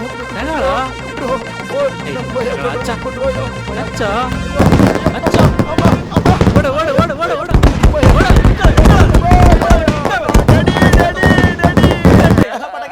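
Rapid bursts of firecrackers crackle and pop in dense, irregular volleys, loud and close, with voices talking and shouting over them.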